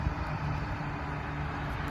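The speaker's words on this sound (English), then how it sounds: "you're gonna hear some trucks coming by here in a minute" Trucks passing on a road near a farm with beehives, a steady broadband engine and road rumble at moderate distance, continuous and without distinct peaks.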